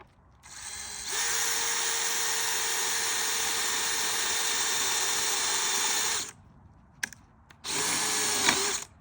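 A power drill whines steadily at high speed through aluminium for about five seconds, stops, then gives a short second burst after a brief clatter.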